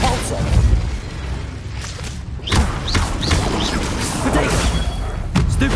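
A Depulso force spell cast in the video game Hogwarts Legacy gives a heavy thudding blast over a busy, loud game mix, with several booming impacts across the moment.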